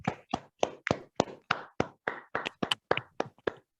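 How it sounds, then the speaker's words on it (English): A single pair of hands claps about thirteen times in an even, quick rhythm for a Toastmaster of the meeting, each clap crisp and close with silence between. "please unmute yourself and give a loud clapping for the outstanding performance of our TMOD"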